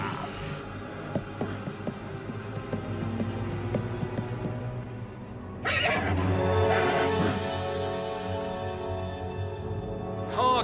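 A cartoon horse neighs and whinnies over a soft animated-fairy-tale background, with a brief rustle before a louder, brighter whinny breaks in partway through, then trails off under steady ambience.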